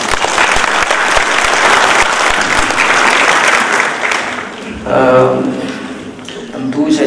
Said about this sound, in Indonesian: Saya mohon tepuk tangan untuk beliau.